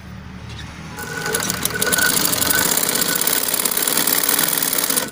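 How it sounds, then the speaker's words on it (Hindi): Sewing machine stitching through a single layer of fabric, a steady mechanical whir with rapid ticking that grows louder after the first second and runs on continuously. "ये देखो इसके एकदम सिंगल परत पे इसकी सिलाई निकालो, एकदम अच्छे से आएगी।"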